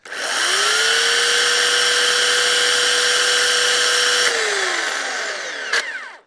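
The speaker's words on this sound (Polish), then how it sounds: "Teraz kolejna próba, czy taka elektryczna piła motorowa da sobie radę" An electric chainsaw powered from a FOSSiBOT F2400 power station spins up with a rising whine, holds a loud steady high-pitched motor drone for several seconds, then winds down, ending with a brief clunk.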